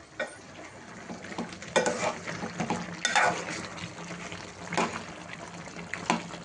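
A spoon stirs chicken curry in a pan, giving soft scraping and wet churning sounds over a faint sizzle, with a few louder strokes.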